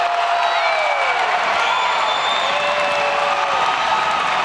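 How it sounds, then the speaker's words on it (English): Basketball crowd cheering and applauding after a blocked shot in a college men's game, a steady, loud wash of cheers, whoops and claps filling the gym with no break. "That gets the crowd on their feet."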